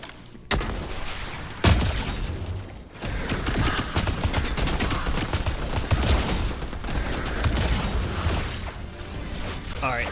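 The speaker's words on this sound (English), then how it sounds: "I like to switch to the rifle just because it kills them a little faster." Rapid rifle gunfire in a Fortnite roguelike escape mode, bursts of sharp shots crackling nearly nonstop over ten seconds amid game effects, with a loud crack near the start and a short lull around three seconds.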